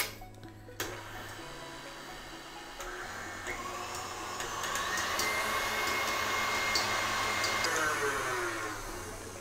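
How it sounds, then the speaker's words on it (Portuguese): An electric mixer whips vegetable chantilly-style cream until firm, its steady motor whine starting abruptly and then settling into a continuous drone that grows slightly louder midway, close and alone. "Esse é um creme vegetal tipo chantilly. Vamos bater até ele ficar bem firme"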